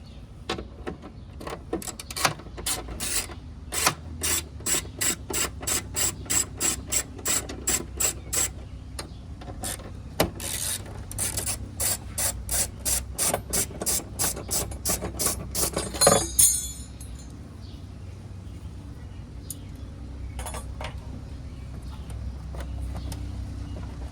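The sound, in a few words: undoing 10 mm license plate bracket bolts, Honda GL1500 Goldwing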